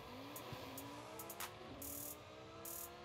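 A 1400HP 2020 Lamborghini Huracan EVO makes a drag test pass in Forza Horizon 5, its engine rising through gears in a continuous, fairly quiet rev with brief sharp bursts on top.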